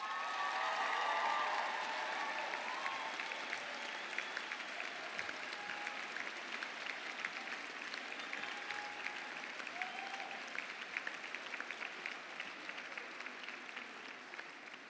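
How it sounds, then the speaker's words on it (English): Graduation audience at a university ceremony applauds steadily for nearly fifteen seconds, a broad, sustained wash of many hands clapping that stays fairly even in strength and fades only slightly near the end. "warm round of applause."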